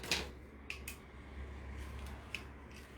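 Scissors snip through the stems of small artificial sunflowers, giving a few sharp, quiet clicks spaced apart over a low background hum.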